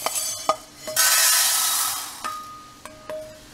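Chana dal being fried and stirred in hot oil for idli podi, a broad steady sizzle swelling in the middle with sharp scraping stir strokes of a spoon against the pan before and after.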